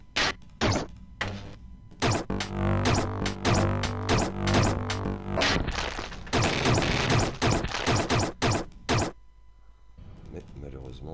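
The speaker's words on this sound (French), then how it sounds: "Gros laser" Big laser shot in the video game Another World, a rapid barrage of sharp zapping blasts with ringing tonal tails, loud and close, then sparser cracks, while a player talks over it.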